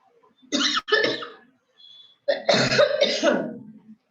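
Two bursts of harsh, raspy coughing, a short pair followed by a longer rough fit, close to the listener with a quiet pause between.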